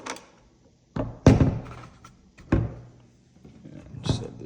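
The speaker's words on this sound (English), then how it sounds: "So first you take the bolt out" Metallic clunks and slides of a bolt being withdrawn from a Benelli Lupo bolt-action rifle, with several distinct close, sharp knocks spaced a second or so apart in a quiet room.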